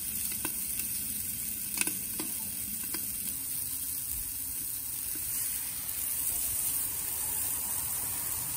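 Shrimp sear on the grate of a Big Green Egg grill, giving a steady close sizzle with a few faint clicks and crackles throughout, and no talking.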